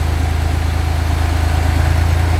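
Tractor engine idling steadily, loud and close, with a fast, even low-pitched chugging pulse throughout and no voices.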